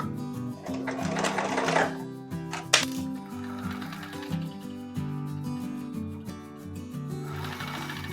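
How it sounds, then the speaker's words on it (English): A sewing machine stitches down the fold of a cloth napkin. It runs in a steady rapid mechanical rhythm in close-up, with a short pause and a sharp click partway through before it starts stitching again. "we're going to sew down this fold very carefully"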